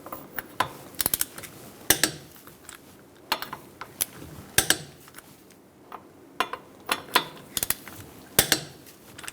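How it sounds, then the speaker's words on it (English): A 21 mm socket wrench torques the lug nuts to 76 foot-pounds on a 2002-2006 Toyota Camry 2.4L. Close metallic ratcheting clicks come in quick irregular bursts with short pauses between, and no one speaks. "Using a 21 millimeter socket, we're going to torque our lug nuts to 76 foot-pounds."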